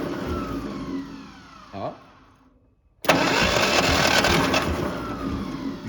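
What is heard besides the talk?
Ferguson TE-20 tractor engine revved at full throttle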